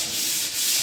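Fine 320-grit sandpaper rubs steadily over a wooden drawer front, a close, continuous soft hiss of hand sanding with no pauses and no voices.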